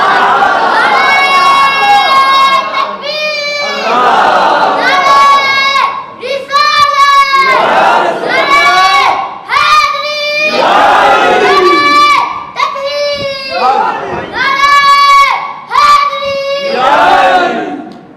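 A large crowd at a religious gathering shouts a loud unison chant in answer to a slogan, in repeated call-and-response bursts of about a second each, with voices close and strong throughout.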